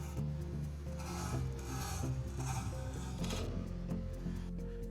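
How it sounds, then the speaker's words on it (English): Chisel truing up a rough-cut wooden piece for a mid-century modern bedside table, giving a steady, faint scraping and rasping rub that continues throughout without pause. "After the rough cut, I trued it up with a chisel."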